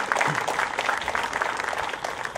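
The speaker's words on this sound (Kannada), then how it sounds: "ದಯವಿಟ್ಟು ಎಲ್ಲರೂ ಚಪ್ಪಾಳೆ ತಂದು ಗೌರವಿಸಬೇಕು" Steady, dense applause from an audience at a Koppal district police training school ceremony, a continuous patter of many hands that holds at an even level throughout with no clear voices over it.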